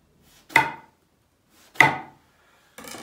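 A knife cuts through eggplants on a board during home cooking, giving two sharp, loud chopping thuds about a second apart, followed by a third cut starting at the end.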